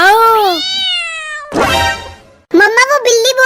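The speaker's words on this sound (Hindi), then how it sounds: "वो बिल्ली बोल रही है मुझे भी खिला दो" A cat gives loud, drawn-out meows close by, one long rising-and-falling cry followed by a second pleading run, with a voice speaking in between.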